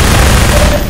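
Dense, loud gunfire from a Half-Life 2 firefight, filling a full second as a steady roar of overlapping shots with no talk over it.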